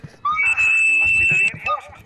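A shrill whistle in the zombie shooter Zombie Army 4, one long sustained high blast followed by a short shorter toot, sounding close and clear over faint background game noise.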